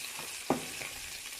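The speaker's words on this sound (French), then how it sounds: "je fais revenir un peu le poivron" Bell pepper sautéing in a pan gives a quiet, steady sizzle with a single sharp clack from a utensil against the pan partway through.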